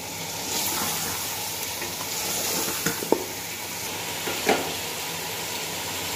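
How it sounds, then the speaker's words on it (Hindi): Chicken browning in hot oil in a cooking pot, a steady loud sizzle with a few soft scrapes and knocks of stirring over it. "चिकन को हमने इतना भूनना है कि पिंक से वाइट कलर में आ जाए।"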